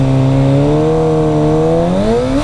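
A car engine revs hard and steadily for a burnout, its rising harmonic whine loud and close, sustained throughout with no talk over it.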